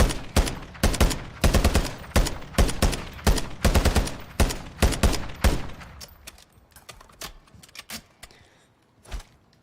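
Taq V rifle in Modern Warfare 3 firing in repeated short bursts of rapid shots, loud and close, with brief pauses between bursts as the trigger is feathered, then tapering to a few scattered single shots near the end.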